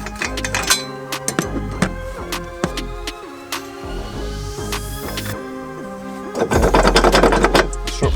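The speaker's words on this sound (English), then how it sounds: "let's remove the 13mm nut from the top of the strut brace" A 13mm nut is taken off the top of the strut brace on an Audi TT, giving a run of close metallic clicks and clinks with irregular rhythm. The clicking grows busier toward the end, and no one speaks.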